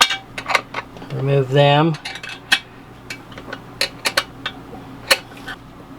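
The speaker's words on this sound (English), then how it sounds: "Take this 10mm, since it's kind of awkward to get in there with a screwdriver, loosen up these bolts" Metal clinks and clicks of a 10mm wrench loosening bolts on an RV toilet, a Thetford Aqua Magic II, scattered sharp taps with one brief scraping rattle, close by, with a few quiet spoken words.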